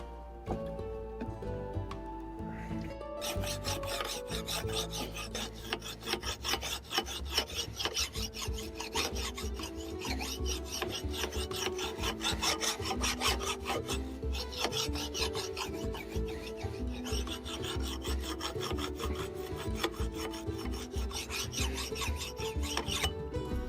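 Steady rasping strokes of a file working the edge of a forged sgian dubh blade to take off forge scale, continuous and close for the whole stretch with no talking.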